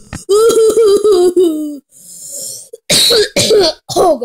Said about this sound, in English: That was a bad cough.